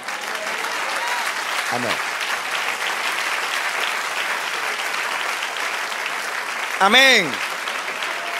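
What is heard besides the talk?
applause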